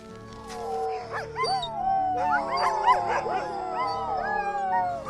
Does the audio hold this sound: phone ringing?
no